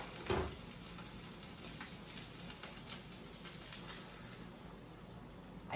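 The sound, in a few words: beaten eggs frying in a pan with peppers and onions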